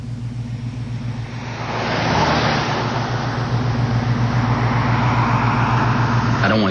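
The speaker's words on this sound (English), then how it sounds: "I got positioned where I could observe traffic flow on the interstate." Vehicles pass on an interstate highway, a steady roadway roar that swells as traffic draws closer and stays loud and continuous.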